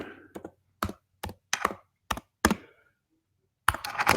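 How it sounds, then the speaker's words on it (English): Fingers type on a computer keyboard in separate bursts of sharp, close key clicks and taps with short silent gaps between them, ending in a quicker cluster of keystrokes. "I'm just typing here."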